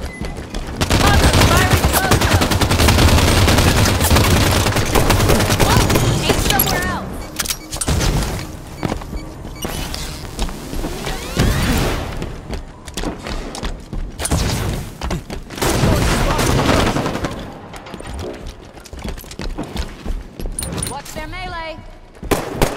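Rifle fire in Halo 5 ranked slayer play: dense bursts of rapid shots and booms, loudest early on, then scattered volleys and thuds over game noise, with voices heard in the mix.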